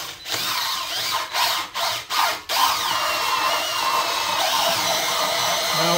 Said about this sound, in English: You're gonna take the drill and drill in around the center bushing